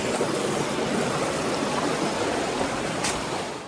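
A mountain stream near Shergaon waterfall rushes steadily in a loud, close, broadband wash of flowing water that fades out at the very end.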